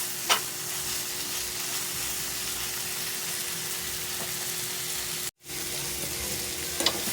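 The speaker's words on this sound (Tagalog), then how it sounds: "Paluto na natin dilis." Dried anchovies (dilis) frying in a pan for a tomato and soy sauce sauté, a loud, steady, close sizzle that runs without a break, with a few faint clinks and one very brief dropout.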